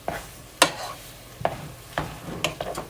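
Ground meat browning in a pan for shepherd's pie, a faint steady sizzle broken by several sharp scraping clicks of a utensil stirring against the pan.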